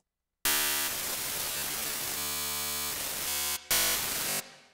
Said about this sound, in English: Oh, you also got white noise.